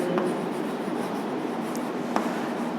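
Marker or chalk scratches across a board while a geometry proof on triangle inequalities is written out, a continuous soft rubbing with a couple of sharper strokes and no talking.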